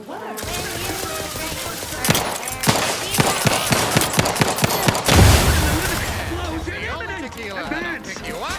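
Gunfire in The Outer Worlds 2, a rapid series of sharp close shots in bursts, followed by a louder blast and game sounds, with speech over the top.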